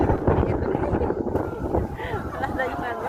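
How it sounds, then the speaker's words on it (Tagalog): Strong wind buffets the microphone outdoors at a busy hilltop viewing gallery at the Peak in Hong Kong, a steady loud rumble throughout, with people talking underneath. "Lakas ng hangin."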